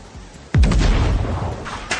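Toy-scale mortar cannons fire from a small LEGO gun position with one sharp, loud boom, followed by a rumbling, crackling tail and a few fainter pops, no talk.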